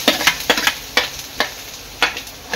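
Garlic frying in hot oil in a pan while making soybean chilli, heard as a steady sizzle with several sharp scraping stirs of a spatula at irregular intervals, close and fairly loud.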